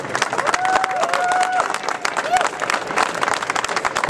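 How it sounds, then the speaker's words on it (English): A crowd applauds and cheers steadily at the premiere of the La Marzocco Linea PB espresso machine, with a few whistles rising over the clapping and some voices mixed into the noise. "give a round of applause for Piero Bambi himself"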